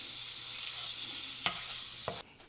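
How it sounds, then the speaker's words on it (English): Steady, close sizzling of butter and beef tallow frying in a hot pan, with a couple of brief clattering scrapes before the hiss suddenly drops quieter. "you want to hear a sizzle"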